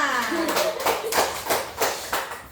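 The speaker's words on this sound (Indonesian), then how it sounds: "Oke, tepuk tangan buat semua" Schoolchildren at an elementary school clap their hands as a group, several loose bursts of clapping in an uneven rhythm, close and fairly loud, with a voice speaking briefly at the start.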